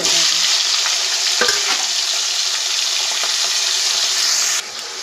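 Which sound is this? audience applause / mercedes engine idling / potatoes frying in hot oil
potatoes frying in hot oil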